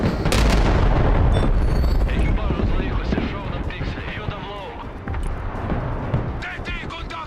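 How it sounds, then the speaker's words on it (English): A bomb goes off in the war strategy game Broken Arrow, a loud booming blast with rumbling debris and scattered pops, while a voice talks over the continuing battle noise. "Oh, and here comes the bomb."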